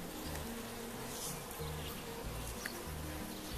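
Honey bees buzz softly and continuously close by as they are gently brushed off a honey frame, a faint, steady insect drone with slight pulsing and no talk.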